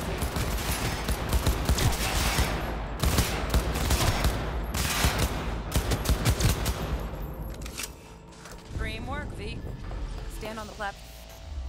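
Rapid gunfire at a training area in the video game Cyberpunk 2077, dense bursts of automatic shots filling most of the stretch before dropping away, followed by quieter electronic chirps and a voice speaking near the end.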